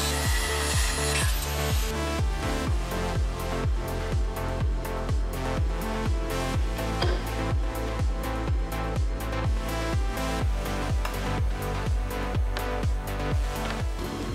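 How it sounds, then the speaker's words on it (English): A power tool cuts through steel U-bolts just above the nuts on a Tesla-Tatra monster truck build. It gives a loud, continuous whine with rapid regular pulsing that holds steady throughout, with no voices. "We need to cut these U-bolts just above the nuts to clear the steering mechanism here."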